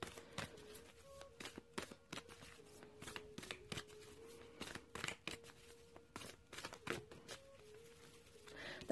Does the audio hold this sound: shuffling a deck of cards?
yes